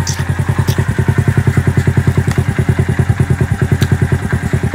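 A Honda Cub fitted with a Thai-style aftermarket exhaust with a built-in silencer runs at idle, a loud, close, even put-put thump repeating rapidly and steadily with faint mechanical clatter, and no talking.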